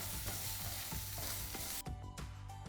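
Ginger garlic paste frying in a pan for a Telangana-style egg curry, a steady broadband sizzle with repeated scraping stir strokes, close and loud throughout with no voices.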